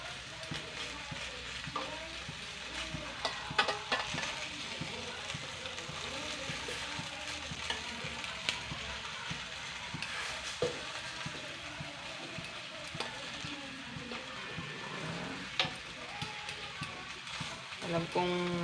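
A pork chop sizzles in a grill pan on a stovetop, with a continuous close hiss and frequent small crackles and scraping clicks throughout.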